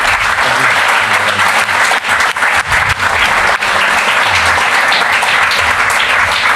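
A large audience applauds Douglas Coupland and Hans Ulrich Obrist after their talk, with loud, sustained, dense clapping that fills the room and holds steady from start to finish.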